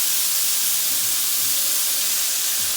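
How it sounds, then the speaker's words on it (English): Steak for street tacos sizzling in a hot pan while being stirred, a steady loud hiss throughout with soft scraping thuds of the stir underneath. "So I'm just going to do a quick stir in the pan."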